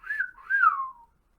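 A person whistles two rising-and-falling notes in imitation of a Kenku's call for attention, clear and alone, followed by silence.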